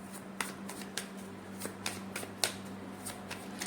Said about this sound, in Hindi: थोड़ा सा शफल करते हैं और देखते हैं थोड़ा और क्या एनर्जीज हैं।